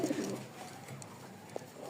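A Rajshahi Giribaj pigeon gives a short soft coo right at the start, then quiet surroundings with a faint tap.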